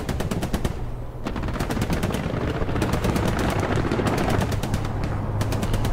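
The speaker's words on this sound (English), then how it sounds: "Let me just get a strafe run across there to clear the path." Aircraft strafing run in a video game, with rapid machine-gun fire in dense repeated bursts, loud and close over a constant battlefield rumble, broken by a brief pause.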